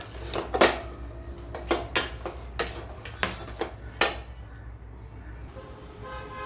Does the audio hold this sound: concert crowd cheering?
no